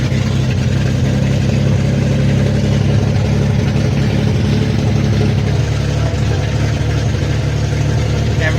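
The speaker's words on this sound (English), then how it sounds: "We're driving the 280 down the road." A 1977 Datsun 280Z with an L30 engine and no doors drives down the road, its engine humming steadily and fairly loud with constant road and wind noise, no talk heard.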